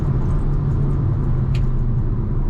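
A Fiat Pulse Abarth in Poison mode on a track gives a loud, steady engine drone with deep low-end rumble. The sound holds constant under heavy road and wind noise, with a faint brief high squeak partway through.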